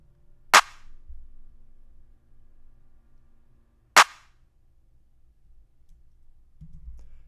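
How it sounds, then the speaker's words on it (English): Two sharp, bright clap hits land a few seconds apart in a sparse pluggnb beat pattern, each a crisp snap with a short tail over a faint low hum, with no other sound between them. "this was the clap sample I used"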